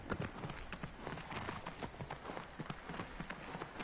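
Rapid, steady hoofbeats of a galloping horse clattering over rocks in the video game Shadow of the Colossus, busy and continuous throughout.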